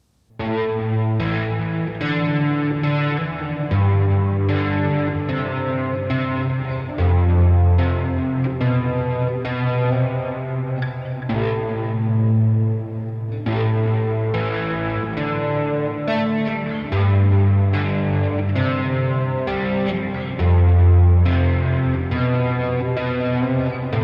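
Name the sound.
ZOIA pedal with distortion, delay, flanger and reverb effects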